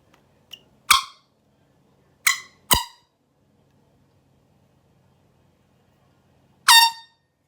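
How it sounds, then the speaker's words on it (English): Several short, loud blasts from a small handheld mini air horn, a quick pair near the start, two more a second later, then a final blast after a pause, each sharp and harmonically rich with silence between. "Testing the air horn."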